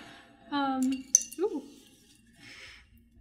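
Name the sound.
glass jars clinking while being handled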